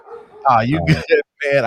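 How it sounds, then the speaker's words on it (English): A dog barks in short yipping bursts close by, mixed in with someone talking over it. "apologize for the dog"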